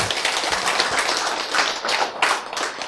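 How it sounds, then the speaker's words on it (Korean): An audience at a church lecture bursts into applause: many hands clap densely and steadily at moderate distance, with a few sharper claps standing out. "박수."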